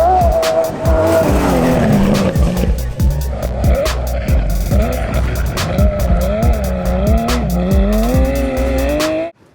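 A Porsche GT3 Cup race car drives on dirt, its engine loud and close, revving up and down, with tire noise and gravel as it slides in oversteer, running continuously before cutting off abruptly.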